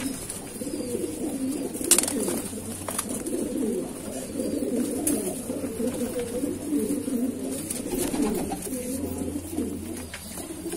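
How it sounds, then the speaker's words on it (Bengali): Madrasi pigeons coo steadily in low, overlapping murmurs while a female pigeon is held up and shown, a continuous close-up flock sound with no talking. "এবার আমি মাদি পায়রা দেখাবো"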